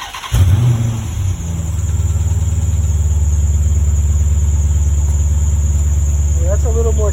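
A Dodge Charger Scat Pack with a newly installed exhaust starts up and settles into a loud, deep, rumbling idle close by, with a voice briefly heard near the end.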